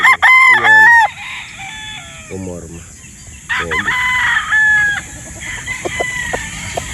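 A broodstag rooster crows loudly and close several times, the calls overlapping with other distant crows and some clucking, set against an outdoor farm background with no speech.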